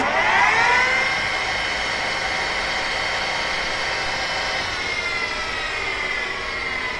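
A metal lathe with a separate headstock runs at speed during a test, giving a steady, smooth high whine with a slight pitch drop near the start, close and loud, without talking.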